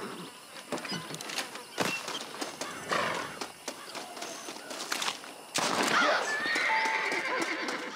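A horse whinnies loudly amid clip-clopping hooves and other sound effects in Red Dead Redemption, with no one speaking.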